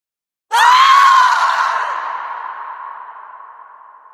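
A single piercing, blood-curdling scream of a woman in a dark forest bursts in loud and close, holding a high wavering pitch before trailing off slowly with echo for several seconds.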